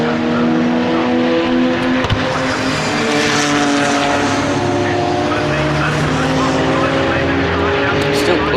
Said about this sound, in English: Porsche, Chevron, Audi, Chevron go through clearways there together.